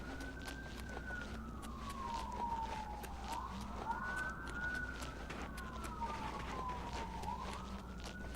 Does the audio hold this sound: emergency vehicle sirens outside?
yes